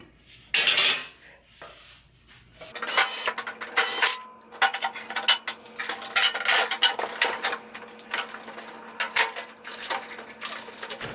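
An oven temperature sensor is pulled out of a microwave. Metal parts clink, rattle and clatter in irregular bursts, close and fairly loud, with short quiet gaps between.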